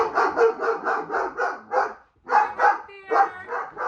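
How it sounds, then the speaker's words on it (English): A dog barks repeatedly in quick, rhythmic bursts, close and fairly loud, with a brief pause partway through before the barking resumes. "are you barking for?"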